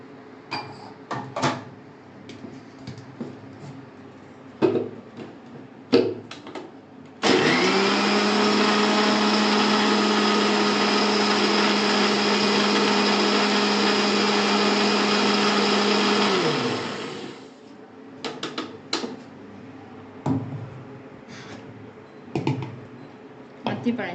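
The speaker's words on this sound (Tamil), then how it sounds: "சேர்த்து இதை நல்லா அரைச்சி எடுத்துக்கலாம்." Figs, palm jaggery and a tumbler of milk whir in a kitchen blender for fig juice, a loud steady motor drone running about ten seconds before winding down, framed by clattering and handling noises before and after.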